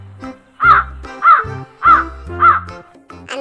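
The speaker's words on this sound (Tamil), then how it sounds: "அந்த மரத்துல 2 காக்கைகள், ஆண் காகமும் பெண் காகமும் சேர்ந்து சந்தோஷமா வாழ்ந்து வந்துட்டு இருந்தாங்க" Crows cawing as a sound effect for a Tamil folk story about a crow pair nesting in a tree: four loud, evenly spaced caws close by, with a fainter fifth call at the end.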